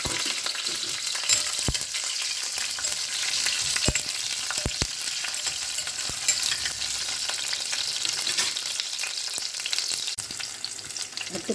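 Fenugreek, cumin and chopped onion frying in hot oil, an even crackling sizzle with occasional sharp stirring clicks, close and steady and without speech.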